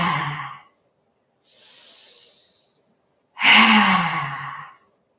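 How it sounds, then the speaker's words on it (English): Deep breaths during a yoga breathing exercise: a forceful exhale, a quieter hissing inhale, then a strong, loud exhale, each separated by silence. "So take a nice big breath in."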